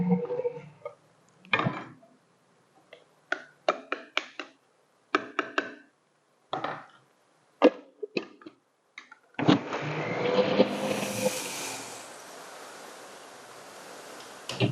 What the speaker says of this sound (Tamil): நம்ம வறுத்து வச்சிருக்கிறத மிக்சியில் அரைச்சி எடுத்துட்டு வந்துடலாம்